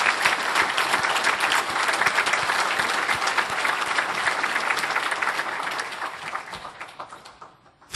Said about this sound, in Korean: 우리의 온 마음을 담아서 박수로 한번 감사를 표하겠습니다